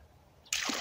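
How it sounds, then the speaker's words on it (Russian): Near silence abruptly broken by a sudden gush of water splashing and spattering onto soil around a newly planted grape seedling, loud and close. "Продолжим полив."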